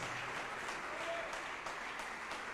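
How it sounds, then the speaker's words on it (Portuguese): An evangelical church congregation claps together in praise, a continuous, evenly dense patter of many hands that sounds somewhat distant in the hall and lasts under three seconds. "Vamos aplaudir mais ao nome de Jesus."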